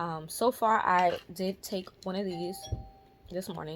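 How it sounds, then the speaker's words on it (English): A doorbell chimes once in the background, a clear sustained ding that rings out during a pause while a person talks close to the microphone. "that was a doorbell"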